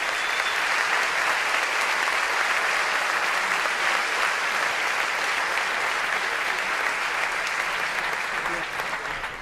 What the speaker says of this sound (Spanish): También pido un fuerte aplauso para ellos.